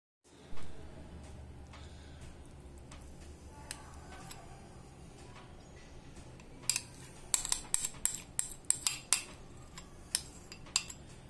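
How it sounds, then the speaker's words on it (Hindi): Softened butter being mixed with dry ingredients in a bowl for nankhatai: soft scraping at first, then a run of sharp clinks and taps of a spoon against the bowl growing busier toward the end, with no talking. "अब इसे हम ड्राई इंग्रेडिएंट्स के साथ इसे मिक्स कर।"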